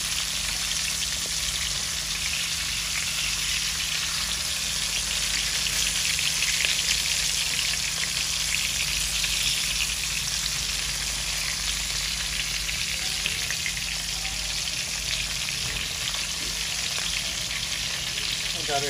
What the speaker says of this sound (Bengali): আমাদের মাছ এক পিঠ ভাজা হয়ে গেছে